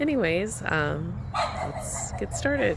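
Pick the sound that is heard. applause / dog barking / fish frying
dog barking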